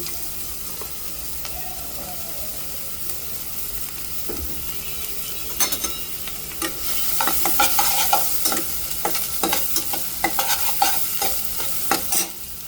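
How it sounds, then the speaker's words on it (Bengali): Onions frying in hot mustard oil in a pan, a steady sizzle with intermittent stirring scrapes and clicks throughout. "এটা তেলটা গরম হলে এর ভিতরে পেঁয়াজ দিয়ে দেব।"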